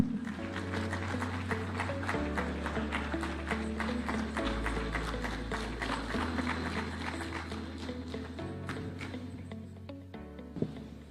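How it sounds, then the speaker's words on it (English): Audience at the Devolution Conference in Eldoret, Kenya, applauding to welcome the President, a steady, dense clapping sustained for about eleven seconds over loud stage music. "Let's welcome His Excellency with a hand clap"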